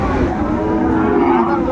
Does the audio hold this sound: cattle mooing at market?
yes